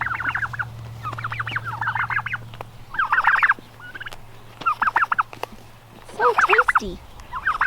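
Turkeys gobble in repeated close, loud bursts while feeding on kale in garden beds, with a steady low hum underneath and a person speaking briefly.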